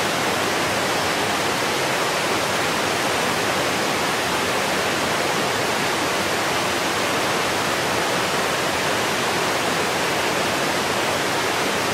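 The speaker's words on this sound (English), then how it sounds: "He might be picking up the roar of the water more than my voice." A dense, unbroken roar of rushing water beside a rappel descent at a secret location, loud and constant from start to finish with no other sounds.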